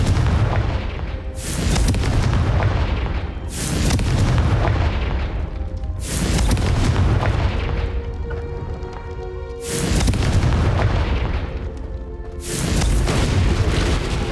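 In Hogwarts Legacy, repeated Confringo explosive spell blasts go off as heavy booming bursts every couple of seconds, each with a rumbling decay and a ringing tail, loud and close.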